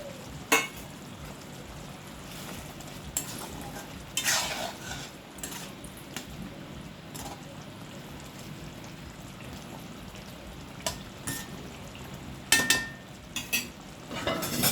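Fried potatoes dropped into a yogurt masala and stirred in a pan, a soft continuous simmer broken by scattered clinks and scrapes of a spoon against metal, fairly quiet with no talking.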